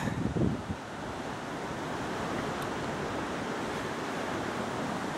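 Mill Creek in Giles County, Virginia rushes past in a steady, broad wash of water noise, constant and fairly close, with a brief rustle at the start.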